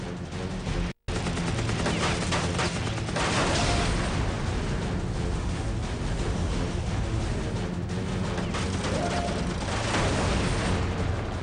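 Aircraft machine guns rattle in a tight turning dogfight with a German Bf 109, a dense continuous roar of engine and gunfire, loud and sustained with a brief dropout near the start.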